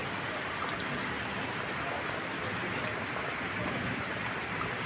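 Heavy rain during an afternoon rainstorm falls in a dense, steady hiss of drops on surfaces, continuous and fairly close, with no talking.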